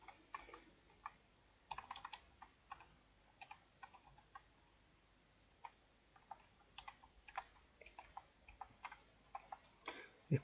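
Rapid, uneven clicking of fingers typing on a computer keyboard, light individual keystrokes in bursts with short pauses, close and fairly quiet in a still room with a faint voice now and then.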